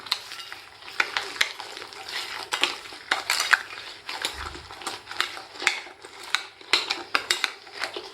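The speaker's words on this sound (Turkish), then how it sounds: "Şöyle karıştırıyorum." Walnuts being stirred into chocolate chip cookie dough in a bowl, with a steady run of scraping, clicking utensil strokes against the bowl in an irregular rhythm, close and clear with no talk.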